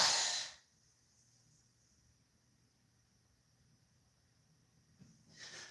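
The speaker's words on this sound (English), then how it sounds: "Breathing, the big breath in and out" A yoga instructor's deep breath, a strong airy inhale at the start, then a long quiet stretch with faint steady hiss before a softer breath returns at the end.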